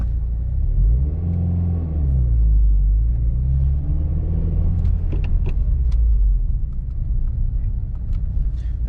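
A Subaru WRX on the move, its engine rumbling low and steady from inside the cabin, with a few rising pitch sweeps as it accelerates and shifts, and some faint clicks toward the end.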